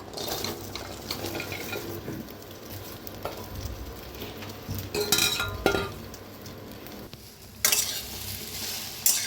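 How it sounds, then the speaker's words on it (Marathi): Okra dry-roasting in a kadhai with no oil yet, giving a soft crackle as a spatula stirs and scrapes, with occasional metallic clinks against the pan, close and moderate. "तर भाजून घेऊया भेंडी आपण।"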